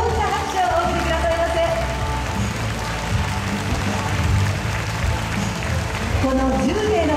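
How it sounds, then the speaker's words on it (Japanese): A large audience at a flower arranging awards ceremony applauds the ten finalists, a steady, even wash of clapping lasting throughout with tonal sounds and voices faintly underneath. "どうぞ改めて大きな拍手をお送りください。"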